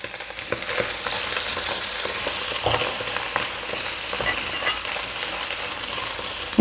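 Finely chopped mushrooms sizzle as they are stir-fried in a pan over medium heat, a steady close hiss broken by soft scraping stirs, with no talking.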